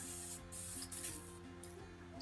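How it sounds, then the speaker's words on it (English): CRC 556 lubricant sprayed from an aerosol can onto the wheel bearings of a Bugaboo Bee stroller: several short hissing bursts, close and fairly quiet, over a faint steady background tone. "and you want to spray"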